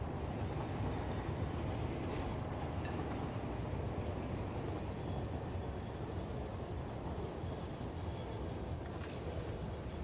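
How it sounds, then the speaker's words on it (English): A train rumbles past in a factory-building game, a steady, dense rolling roar that holds evenly throughout at a quiet level. "Catch you later, train."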